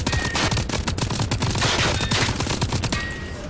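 Rapid bursts of video game gunfire rattle on continuously, loud and dense like a machine gun or fusillade, with no talk over them.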